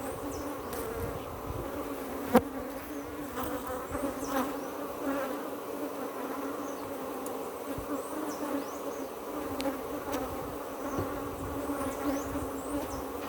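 Honey bees buzz around a brood frame during a hive inspection, a dense, steady hum from many insects throughout, with a faint click or two.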